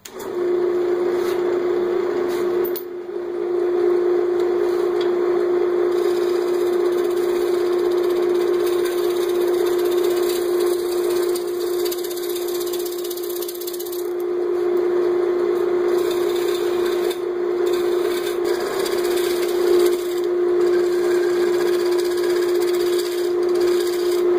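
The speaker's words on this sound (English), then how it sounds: "I'll go ahead and clean up the outside and start by doing some pull cuts." A wood lathe turning a pin oak hollow form during pull cuts, giving a steady loud motor hum with a strong sustained tone and faint scraping of the tool against the wood.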